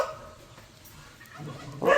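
A dog barks at a peacock, one sharp loud bark bursting in near the end after a stretch of quiet room sound.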